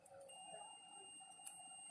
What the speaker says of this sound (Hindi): तो इसमें बीप साउंड सुनाई देगा।